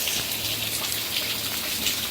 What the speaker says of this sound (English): it started pouring outside